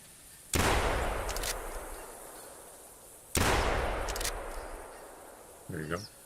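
Two sharp rifle shots fired at a pheasant in theHunter Classic, each a loud close crack with a long rolling echo tail, spaced about three seconds apart, followed by a brief game sound.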